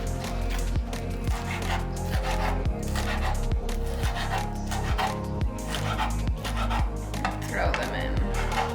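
Knife chopping green onions on a cutting board in a home kitchen, a quick steady run of sharp, close, evenly spaced taps, loud and unaccompanied by talk.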